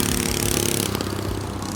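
A small go-kart engine runs steadily and loudly close by, a continuous buzzing drone with a slight shift in tone partway through.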